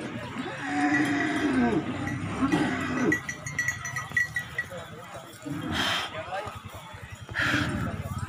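Cattle and goats on a high mountain pasture, cowbells clanking and lowing mixed with bleating, with people talking nearby throughout.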